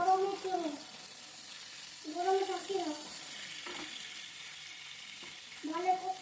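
Vegetables frying lightly in spattering oil with a pinch of salt for a vegetarian dish, giving a steady close hiss and crackle, with voices talking intermittently over it.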